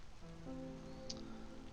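Light drizzle begins in the settlement-building game Against the Storm, a faint soft patter of rain with a few quiet tonal game chimes drifting over it.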